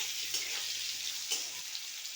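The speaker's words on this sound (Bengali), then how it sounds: "আলু আর মূলোগুলো ভেজে নিচ্ছি।" Potatoes and radish frying in a pan give a steady, soft hiss of oil, close and fairly quiet, with a couple of slightly louder crackles and no voices.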